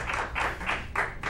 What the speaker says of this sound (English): Let's have a round of applause for him, please.